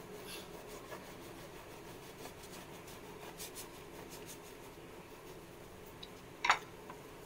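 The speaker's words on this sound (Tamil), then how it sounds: "நைஃப் வச்சு பாதியா கட் பண்ணி எடுத்துக்கோங்க." A knife saws through a Madurai-style butter bun to halve it, making quiet, soft rubbing strokes close by. A brief sharper tap or clatter comes near the end.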